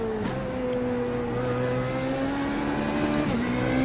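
A Formula Renault 3.5 race car in the iRacing sim holds a steady, droning engine note at high revs, with two quick gear shifts briefly breaking the tone and no talking.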